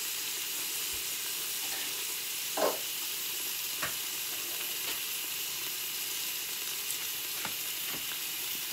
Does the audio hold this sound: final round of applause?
no